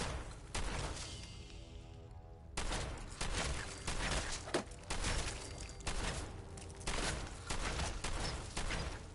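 Rapid gunfire in Fallout 4 at Nuka World, repeated bursts of loud sharp cracks with short gaps between them, one brief pause near the start, then steady volleys continuing to the end.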